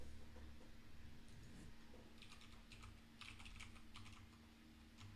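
Computer keyboard typing in quiet bursts of rapid clicking keystrokes, sparse at first and then denser, with a steady low hum underneath and no talk.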